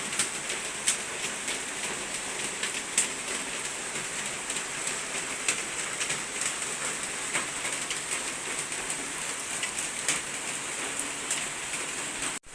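Heavy rain pours steadily on a surface for about twelve seconds in an even, hissing wash with scattered louder drips, and no one speaks over it.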